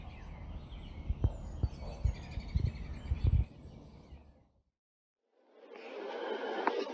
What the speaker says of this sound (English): just hearing the birds